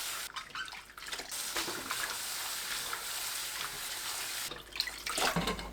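Bellflower root (doraji) rinsed in a bowl of water, with steady sloshing and splashing close by that swells again toward the end, no voices.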